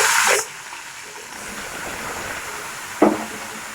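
Spiny gourd pieces go into hot oil fried with black cumin, a loud burst of hiss at the start fading to a quiet steady sizzle, then a second short, sharp flare of sizzle.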